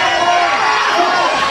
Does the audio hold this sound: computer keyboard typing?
no